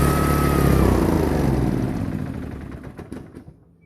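A horizontal tiller engine, its valve cap just repaired and its carburettor needing a clean, runs loud and close with a steady rough drone that slowly dies away, sputtering and knocking irregularly as it winds down.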